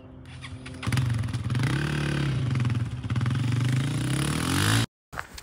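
A Honda CRF 250F motorcycle engine revs and runs loudly up close for several seconds, with a rough, steady four-stroke burble, then cuts out abruptly near the end.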